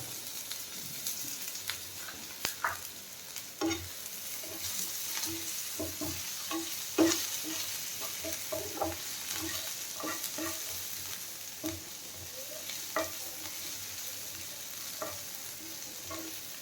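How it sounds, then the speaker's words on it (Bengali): Cashew nuts fry in a pan with onions already softened to a reddish colour, giving a continuous soft sizzle broken by scattered clinks and scrapes of stirring. No one speaks. "এবার এর মধ্যে আমি কাজু বাদামটাকে ভাজব"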